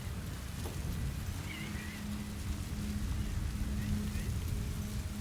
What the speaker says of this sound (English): I have to wait for the storm to go away.